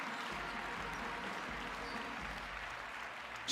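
Home crowd in an arena applauding and cheering before tip-off of a Finland v Sweden women's EuroBasket qualifier, a steady wash of clapping and crowd noise that stays fairly distant and even throughout.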